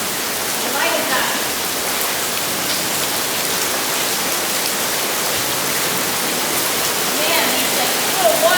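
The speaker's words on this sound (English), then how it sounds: "there's like little waterfalls everywhere now" Small waterfalls flow all around a muddy outdoor spot, a steady broadband rush of falling water close by, continuous for the whole stretch with faint rises in places.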